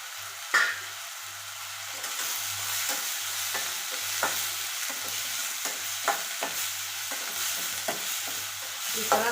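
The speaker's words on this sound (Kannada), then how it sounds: "ಇನ್ನೂ ಉಳ್ಳಾಗಡ್ಡಿ ಸ್ವಲ್ಪ ಹಸಿ ಇರಬೇಕಾದ್ರೆ ನಾನು ಏನು ಮಾಡ್ತೀನಿ, ಇವನು ಅದರಲ್ಲಿ ಹಾಕಿ ಫ್ರೈನ ಮಾಡ್ತೀನಿ." Onion frying in hot oil in a pan with ginger-garlic paste, a steady close sizzle broken by repeated scraping strokes of a spoon stirring, with no talking.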